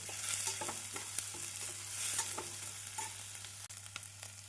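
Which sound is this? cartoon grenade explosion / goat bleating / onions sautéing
onions sautéing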